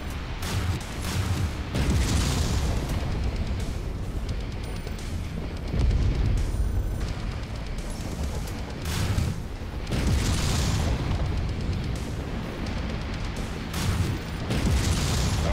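Missiles explode in Mechwarrior 5: Mercenaries, heavy repeated booms and rumbling blasts roll through continuous mech combat noise, loud and close.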